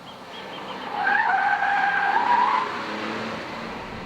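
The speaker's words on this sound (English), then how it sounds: "So you can make them howl doing just about anything." Front tires of a front-wheel-drive Honda Accord Coupe squeal while cornering, a single sharp, wavering screech lasting about a second and a half over a low, steady road and engine hum.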